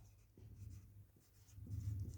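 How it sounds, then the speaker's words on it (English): Faint scratching of writing on a board during a primary-school maths lesson: soft, irregular strokes over a low background hum, with no speech. "let me write this statement here"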